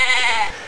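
A single short goat bleat with a wavering, quavering tone, played as a sound effect when a game-show door opens to reveal a goat. It is fairly loud and close, and fades out quickly.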